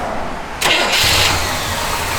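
A 1969 Chevrolet Impala SS convertible engine cranks briefly, then fires and settles into a loud, steady idle nearby.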